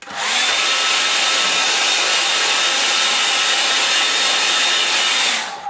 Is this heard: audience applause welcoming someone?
no